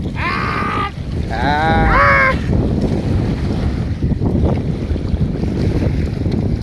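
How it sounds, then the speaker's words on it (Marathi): Waves wash against a lake shore under steady wind rumble, with some harmonic vocal-like sounds near the start. "पहा कशा लाटा येऊन राहिल्या."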